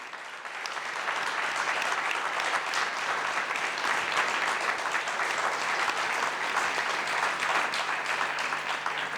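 Strong, sustained applause from a communication and journalism congress audience for three panelists, a dense even roar of many hands clapping that rises quickly and holds for about nine seconds without speech.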